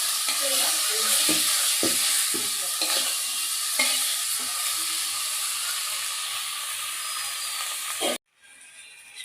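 Spice paste sautés in a hot pan, hissing loudly and continuously while a spoon scrapes and stirs in irregular strokes, then the sizzle cuts off abruptly near the end.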